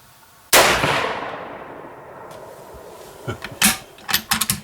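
A single sharp rifle shot using 4198 powder and a 45 grain Hornady Hornet bullet cracks out loudly and rings off, followed by several quieter clicks and clanks of handling.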